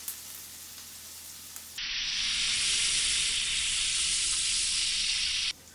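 Minced shallots sizzle in olive oil and butter over medium heat, a loud, steady frying hiss that starts abruptly and holds for nearly four seconds before cutting off, with no voices.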